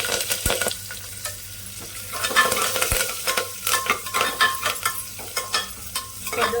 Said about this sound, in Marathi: लसूण आहे ना चांगला असा भाजून घ्यायचा आहे